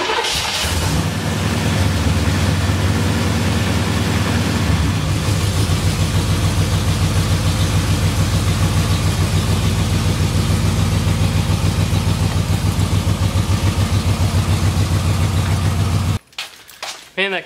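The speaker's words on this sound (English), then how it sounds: "Man, that Camaro runs good." A Camaro engine rated around 170 horsepower cranks and catches, then settles into a steady, loud idle with a regular low pulse for most of the stretch before cutting off near the end.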